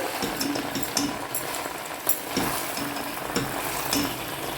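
Gongura leaves fry in hot oil with a steady, close sizzle and crackle, broken by a few soft stirring scrapes and clinks along the way, with no one talking.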